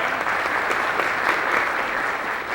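Audience applause at a 1990 junior high all-region band concert in Indiana, a steady dense wash of clapping from a large crowd with no break throughout.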